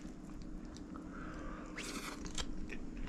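A single crisp bite into Vietnamese green mango salad with shrimp, onions and peanuts gives a short crunch followed by faint chewing, quiet and close.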